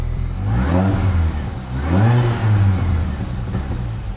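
A car engine refitted with its factory airbox runs close by and revs twice in smooth swells, rising and falling over a steady idle, with no talking.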